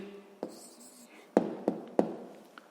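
A hand writing an answer on paper during a sixth-grade maths exercise, with a few soft scratches and several sharp taps of pen on the page, close and otherwise quiet.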